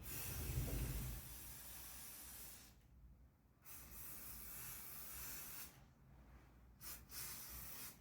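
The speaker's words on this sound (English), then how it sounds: "I'm also going to do a little bit spraying here" Spraying sealant or water-based varnish onto decoupaged rustic furniture: soft steady hissing spray close by, broken by a few short pauses, alone with no voices.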